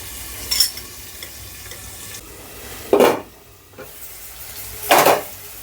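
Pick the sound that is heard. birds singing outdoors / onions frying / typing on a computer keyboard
onions frying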